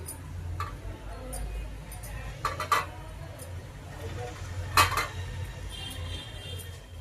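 Boiled eggs dropped into a pot of tamarind drumstick curry, a few light taps and clinks of utensils against the pot amid low kitchen noise.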